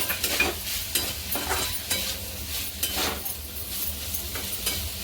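Tondli (ivy gourd) cooking in a pan with grated fresh coconut and coriander is stirred with repeated scraping strokes over a continuous sizzle, a rhythmic spoon-against-pan scrape about every half second.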